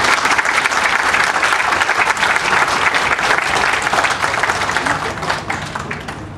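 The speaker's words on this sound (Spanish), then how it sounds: "lo recibimos con un fuerte aplauso" Audience at a parents' conference giving a loud, dense round of applause to welcome a speaker, continuous clapping that tapers slightly at the end.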